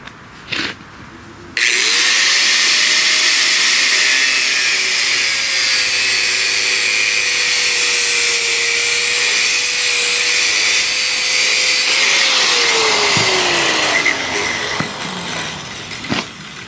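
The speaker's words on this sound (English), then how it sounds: "So to cut this, I'm just going to cut it with a grinder." An angle grinder cuts through a truck air line on a 1973 Diamond Reo, whining up to a loud, steady high-pitched cut that lasts about ten seconds, then winding down.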